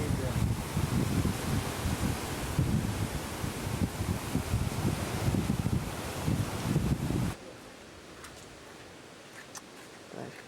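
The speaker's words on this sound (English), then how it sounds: "the wind is cool" Cool wind blows steadily outdoors in Hawaii, a close, rushing buffet on the microphone for about seven seconds, then cuts off abruptly, leaving quiet background.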